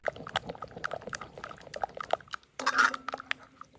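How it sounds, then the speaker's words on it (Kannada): Water poured into a pot of roasted semolina, about half a litre for semolina payasa, a short bright splashing gush after scattered clinks and taps of kitchen handling. "ಒಂದು ಅರ್ಧ ಲೀಟ್ರ್ ಆಗುವಷ್ಟು ನೀರು ಹಾಕುವ"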